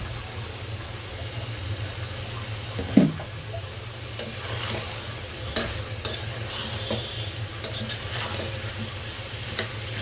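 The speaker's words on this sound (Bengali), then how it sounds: "আলু দিয়ে কলিজাটা সুন্দর মতো কষিয়ে নিচ্ছি।" Liver and potatoes sizzle steadily in a pan while being stirred, with scraping strokes of the utensil and a sharp clack near the three-second mark over a constant frying hiss.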